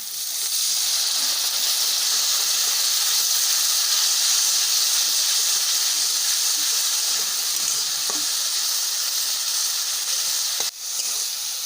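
Spinach masala for palak paneer sizzling loudly in a pan after a little water is added, a steady close hiss and crackle that continues throughout.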